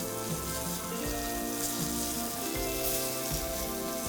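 Catfish browning in a hot pan gives off a steady, close sizzle with a dense crackling hiss throughout and small irregular pops, no voices over it.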